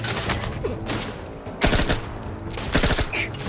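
Machine gun fire in The Outer Worlds 2 bursts out in several loud rapid volleys over a busy game soundscape, with a quieter stretch between the bursts.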